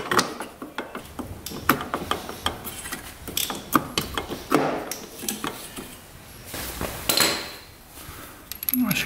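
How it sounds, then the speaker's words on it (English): Clutch parts going back onto a rebuilt street-legal dirt bike: metallic clinks, ratcheting and small part handling in irregular bursts, close up, with occasional talk. "let's put the clutch back on"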